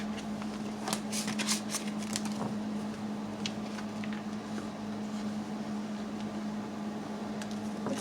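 Message cards are shuffled with a few quick riffling bursts near the start, then softer sporadic card flicks, all fairly quiet over a constant electrical hum, with no talking.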